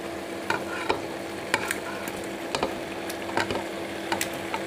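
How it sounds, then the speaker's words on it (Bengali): Chicken pieces stirred into a fried, cooked-down spice paste for a Bengali chicken bhuna with cabbage, sizzling steadily in the pan while a spoon scrapes through in a series of sharp clicks and knocks. "এখন এই কষানো মশলায় আমি চিকেনগুলো দিয়ে দিচ্ছি।"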